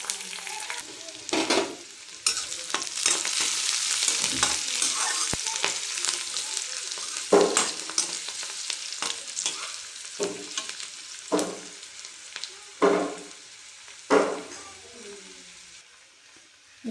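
Green chili and dried red chili frying in hot oil with curry leaves for a carrot fry, giving a loud, steady sizzle with repeated spatula stirs and scrapes breaking through at intervals.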